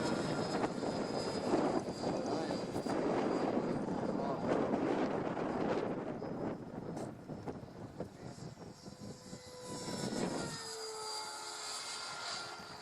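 An E-flite F-15 electric ducted-fan RC jet flies with a steady whooshing fan whine, loud and close at first, then easing and thinning toward the end, while a person talks over it.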